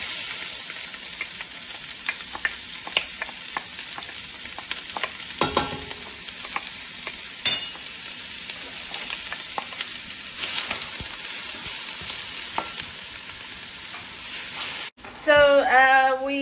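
Onions sizzle steadily in hot oil for chicken kabsah, with a constant crackle and occasional scrapes of stirring, then a sharp louder clatter near the end; there is no talking.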